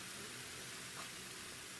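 Ground meat sizzles in a pan for gorditas, a steady, close frying hiss that carries on without a break and with no voices over it.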